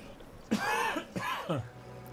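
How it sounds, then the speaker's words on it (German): Two sharp coughs about half a second apart, close and fairly loud, with a short throaty tail after each and no talk around them. "So, ich muss mal Husten, Entschuldigung."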